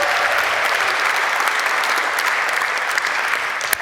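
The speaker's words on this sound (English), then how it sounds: "Come up and give him a clap." An audience at a live album launch in Ealing, London, applauds a saxophonist. The clapping is loud, dense and sustained, holding steady at close range for several seconds.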